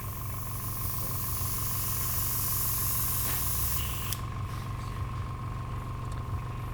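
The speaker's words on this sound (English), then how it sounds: "So what have I learnt just by spraying it like this?" Airbrush spraying Scale75 miniature paint, a steady close hiss of air that cuts off abruptly near the end, leaving a low mechanical hum from a compressor.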